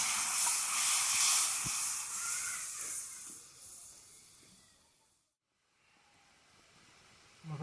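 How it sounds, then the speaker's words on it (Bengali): Spiced water poured into hot oil in a pan for fish curry hisses and sizzles loudly at first, then fades away and drops to near silence. "মশলা জলটা দিয়ে দিচ্ছি।"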